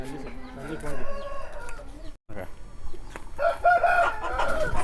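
Fighting roosters of a breeding stock in Ongole, one crowing in drawn-out calls with clucks around it, close and loud, briefly cut off, then more clucking and crowing.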